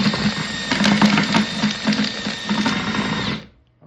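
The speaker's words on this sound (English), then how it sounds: "I use my mixer and I just mix the snot out of it." A power mixer churns epoxy-bound sand for a cast iron casting core, a steady close mechanical whir with rhythmic chugging pulses for several seconds before it stops abruptly.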